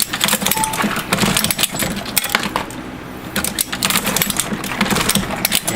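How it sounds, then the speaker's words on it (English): An ammunition reloading machine churns out 45 ACP rounds in a loud, continuous mechanical clatter of rapid metallic clicks and clinks that dips briefly midway, then resumes at full pace. "here I got the machine ready to go, and you can see it's just pretty much cranking out 45 ACP"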